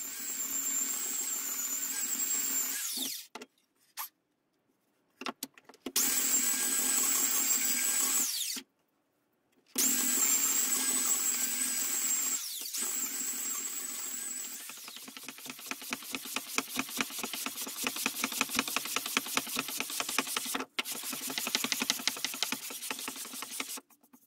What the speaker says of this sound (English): I'm going to try hand plane, but I think I'll mostly be sanding